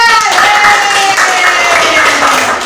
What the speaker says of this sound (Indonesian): tepuk tangan buat Tiara